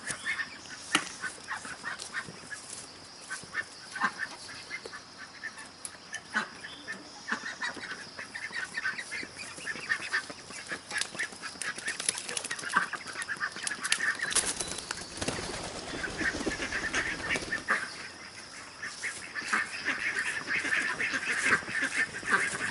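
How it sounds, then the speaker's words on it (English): Mallards, Pekin ducks and a fawn and white Indian runner duck honk and quack repeatedly together with geese, a busy, fairly close flock calling throughout with no pause. "The mallards are the small little brown ones. I have 2 Peking giants, and I have what looks like a fawn and white Indian runner"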